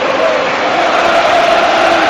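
A stadium crowd at a Real Madrid versus Juventus match roars and applauds Ronaldo's goal, a loud, dense, unbroken wall of cheering.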